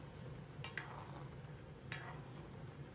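Tofu, green peas and shrimp simmer over medium heat in a wok while a spoon gently pushes them, giving soft scrapes and a couple of brief clinks over a low, steady bubbling hiss.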